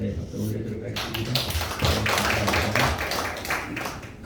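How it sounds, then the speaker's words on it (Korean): A church congregation at a regional worship service gives a round of applause, a burst of scattered clapping that stays moderately loud over several seconds, with a voice audible at the start. "감사의 박수를 올려드리도록 하겠습니다"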